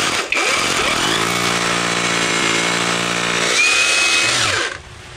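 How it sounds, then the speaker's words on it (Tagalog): A Keelat 4-in-1 power drill in hammer mode drilling a hole, a loud, close, steady high whine with hammering rattle that holds for about four seconds and then winds down. "Drill lang gamitin natin. Butas natin."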